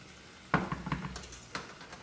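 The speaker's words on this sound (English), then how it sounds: "I hear my ham is over here sizzling." Ham sizzling in a hot frying pan on a home stove, a soft crackle punctuated by a few sharp clinks and scrapes of utensils against the pan.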